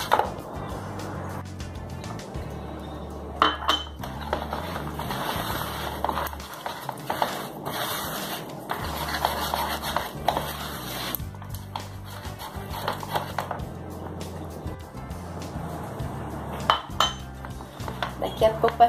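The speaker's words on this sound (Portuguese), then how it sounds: "Vou colocando a farinha e vou misturando." A whisk scrapes and clinks against a bowl as flour is mixed into pitaya bread dough, making continuous rhythmic tapping and rattling with a few louder knocks throughout.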